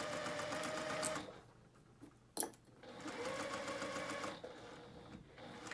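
A sewing machine stitching a fabric girl's headband, running in quick mechanical bursts that pause and restart, with a sharp click between runs, close and quiet.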